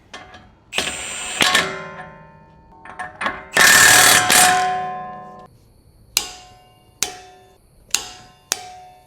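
Ratchet running a wheel hub nut down onto a 2005-2010 Mustang front spindle: sharp metallic clangs and ringing hits, a burst of clicking mechanism, then several spaced single clanks, close and loud.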